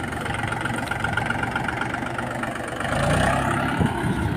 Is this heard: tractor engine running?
yes